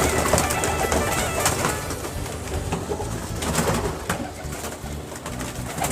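Several Indian pigeons coo steadily from a breeder's loft, soft repeated throaty calls overlapping close by, with a constant hiss of background noise and no talking.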